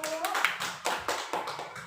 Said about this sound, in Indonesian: Oke, tepuk tangan kepada Ibu.